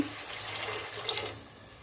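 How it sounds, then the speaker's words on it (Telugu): Water pours into a cooking pot in a continuous hissing stream, quiet and close, tapering off near the end. "ఇప్పుడైతే వాటర్ అయితే పోయాలి"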